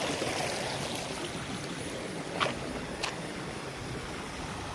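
Water flowing from a dam, a broad continuous rushing roar close by that holds steady throughout, with a couple of brief splashes standing out midway.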